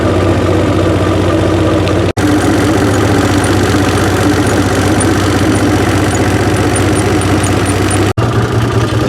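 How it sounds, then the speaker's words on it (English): A quad bike engine runs loud and steady close by on a woodland trail ride, a continuous rumbling drone with two brief cut-outs. "I'm going to be on the quad riding"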